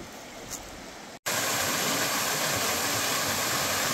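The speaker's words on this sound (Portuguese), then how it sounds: "esse barulho da água" A waterfall rushes in dense forest, a loud continuous roar of falling water that jumps up after a brief cut and holds steady and close.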